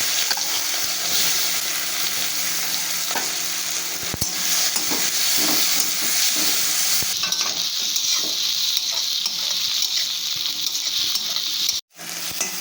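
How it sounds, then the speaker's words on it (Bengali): Chopped onions with cumin seeds fry in oil, a loud steady sizzle with repeated stirring scrapes; the sound cuts out briefly near the end. "পেঁয়াজটা আমার ভাজা ভাজা হয়ে গেছে।"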